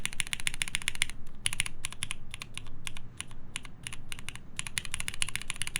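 Rapid typing on a custom mechanical computer keyboard during a build with O-rings fitted, the switches shorting and two keys misbehaving, giving close, crisp clicky keystrokes in quick bursts with short pauses.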